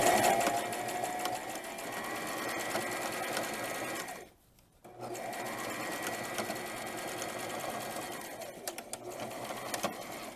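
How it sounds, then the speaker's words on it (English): A sewing machine stitches blouse sleeves into the armholes, running in close, steady bursts of rapid whirring with one short pause midway and no one talking. "I'm going to sew the sleeve, each of the sleeves into the openings now"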